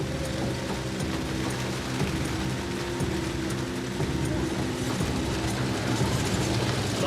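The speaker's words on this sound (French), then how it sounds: "Depuis des heures, Ajay roule sous une pluie torrentielle." Steady, torrential rain roaring without pause, mixed with a continuous mechanical rattle and hum, heard from a moving vehicle.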